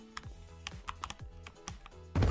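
Someone types on a computer keyboard with a faulty space bar, producing a steady run of close, fairly quiet clicking keystrokes, then a louder thump at the end.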